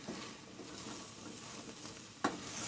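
Bulgur pilaf with butter is stirred in a pot, giving a soft, continuous scraping and gentle sizzle with one sharp clink of the spoon near the end.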